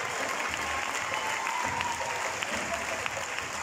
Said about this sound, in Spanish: más fuerte el aplauso para él